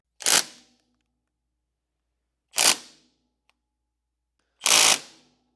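A Milwaukee torque-sense impact driver fires three short, sharp bursts into a hard-joint test rig, each cut off quickly and separated by about two seconds of silence.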